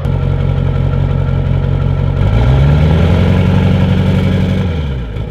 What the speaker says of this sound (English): put this at the exhaust and see if we can get the spool up